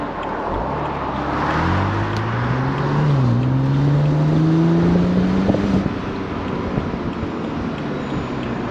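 A BMW Z4 sDrive30i roadster under way, with steady broadband wind and road noise and an engine tone that rises and falls as it shifts. The noise holds loud and constant throughout, with no talk.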